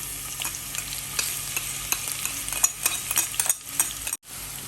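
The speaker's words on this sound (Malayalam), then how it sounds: "എണ്ണ ഇവിടെ ചൂടായിട്ടുണ്ട്. അതിലേക്ക് നമ്മൾ ക്രഷ് ചെയ്ത് വെച്ചിരിക്കുന്ന ചില്ലി, ജിഞ്ചർ, ഗാർലിക്ക് ഇട്ട് കൊടുക്കാം." Crushed chili, ginger and garlic frying in hot sunflower oil, a steady close sizzle with stirring scrapes and small pops throughout, cutting out briefly near the end.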